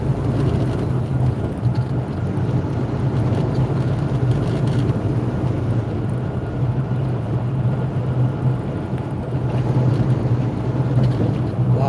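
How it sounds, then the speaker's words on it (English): Strong wind buffets a microphone near a truck on the road in the USA. It makes a loud, continuous low roar with rushing noise and no break. "This wind is really strong, guys."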